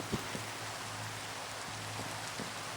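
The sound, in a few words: rain falling in a video game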